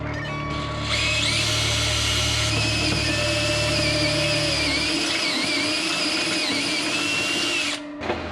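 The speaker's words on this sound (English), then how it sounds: "we'll go ahead and drill those and then get that set up for the bolts to go in" Power drill boring holes into the underbody of a 1966 Mustang, a steady high whine held for several seconds close by, stopping abruptly near the end.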